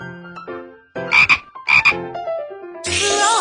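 A synthesized frog croaks twice in quick succession over light game music in the BabyBus School Bus children's game, followed by a bright burst of sound.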